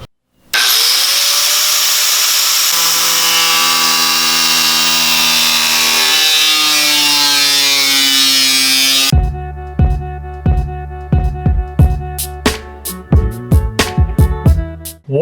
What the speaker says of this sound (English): It's a die grinder.